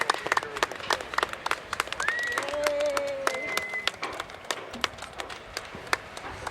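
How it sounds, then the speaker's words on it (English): Audience applause at an outdoor Earth Day gathering, a thin scatter of separate claps that rises into a steadier patter and then thins out. Brief tonal whistle-like sounds and a faint voice come through over it. "Can we give them a round of applause that they came today?"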